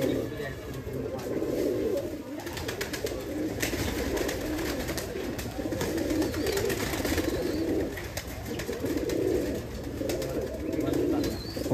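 Pigeons in a loft coo in repeated low, throaty phrases that rise and fall across the whole stretch, several birds overlapping close by, with voices talking faintly in the background.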